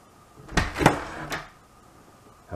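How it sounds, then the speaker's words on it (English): A door fitted with a smart contact sensor is opened indoors, producing a couple of close, sharp clunks and a latch click followed by a softer knock, then quiet. "Let's open the door."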